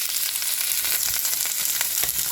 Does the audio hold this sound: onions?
yes